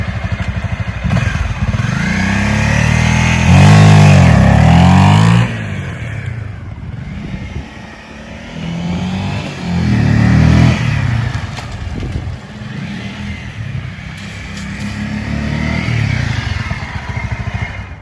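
A motorcycle launches hard from a standstill on the rear brake, the engine revving loudly and rising in pitch through repeated throttle pulls, close and dominant with clattering mechanical noise between the surges.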